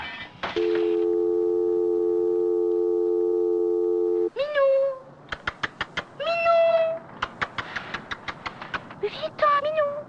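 A cat meows several times in short bursts near the end, after a steady telephone tone that cuts off partway through, with a voice speaking between the calls.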